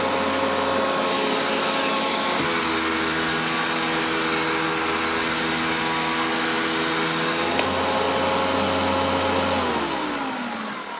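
A Panasonic MC-E44 700W vacuum cleaner runs with a loud, steady whirring drone nearby, its pitch shifting slightly a couple of times before it starts to wind down at the end.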